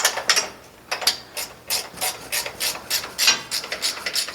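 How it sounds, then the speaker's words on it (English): Ratchet wrench tightening the lower bolts on a Brunswick A2 bowling pinsetter during cross conveyor belt replacement, a close series of quick rasping clicks in short repeated strokes with no talking. "then I'm gonna tighten down the lower bolts"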